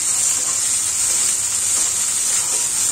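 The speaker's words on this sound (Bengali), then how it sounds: "আদাটা দেওয়ার পর পেঁয়াজের সাথে একটু মিশিয়ে আবারও ভাজতে থাকবো।" Onion and ginger paste fries in a pan with a steady, close, bright sizzle and hiss that holds evenly throughout, with no voices.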